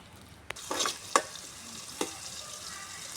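Curry leaves spit and crackle in hot oil, a few sharp pops and scrape-like bursts over a quiet hiss, close and fairly soft, with no talking.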